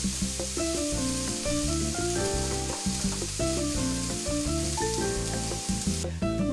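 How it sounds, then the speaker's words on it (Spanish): Onion sizzles steadily while frying in a pan. The hiss is constant and close, with faint stirring and no speech. "la recomendación es freír la cebolla hasta que esté acitronada"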